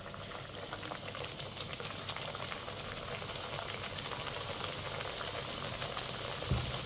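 Sweet tikki patties frying in hot oil, an even, dense bubbling sizzle that holds steady throughout, with a small knock near the end.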